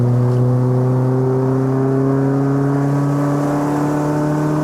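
A Toyota Vios 1.8L 2ZZ-GE VVTL-i engine holds a loud, steady high-rev drone with a faint rising pitch, heard from inside the car on a test drive.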